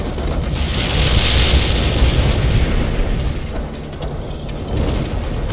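Tank wrecked in the World in Conflict strategy game: a dense, loud rumbling blast and crunching metallic debris, sustained over several seconds with a brighter burst early on, no voices.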